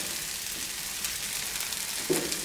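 Eggs fry on a Blackstone griddle, giving a continuous, even sizzle with faint crackles and a short scrape or stir of a utensil toward the end.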